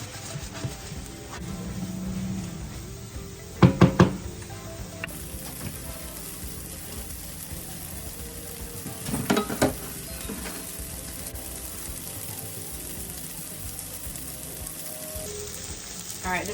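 Vinegar sauce sizzling and frying steadily in a pan while meatloaves cook, with a few sharp metallic clinks of utensils against the pan partway through and a near, continuous hiss throughout.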